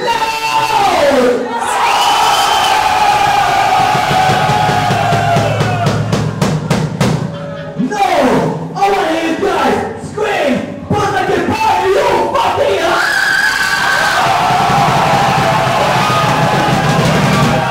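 A crowd at a metal show by a Swedish band in João Pessoa, Brazil, screams and roars loudly, with voices swelling in drawn-out, chant-like shouts that dip briefly midway and then surge again.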